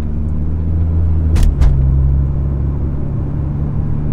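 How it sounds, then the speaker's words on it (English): A car with an automatic transmission shifting gears in comfort mode, heard as a steady low engine and road rumble throughout with a couple of brief shift transients near the middle. "the shifts are actually slow enough to actually slow down the car just for a split second before it engages the next gear"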